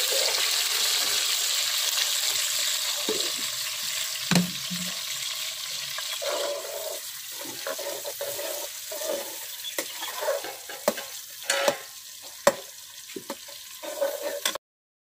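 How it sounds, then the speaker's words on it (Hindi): Onions frying in hot oil in a karahi for mutton karahi, a steady close sizzle with occasional sharp clinks of a stirring spoon against the pan, no talk. "अब इसके अंदर प्याज डालेंगे।"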